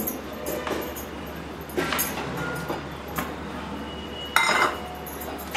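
Jowar flour is stirred in a pan, a spoon scraping and clanking against the metal in uneven bursts over a low background hum.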